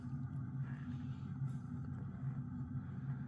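An Emerson Casablanca 52-inch friction-drive ceiling fan runs loudly with a steady low motor drone and hum that stays constant throughout, heard close and alone.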